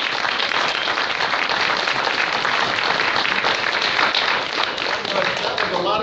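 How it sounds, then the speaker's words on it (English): A class audience gives a round of applause, dense continuous clapping holding steady and loud for the whole stretch, with a few voices mixed in. "Can we give Tom a big round of applause?"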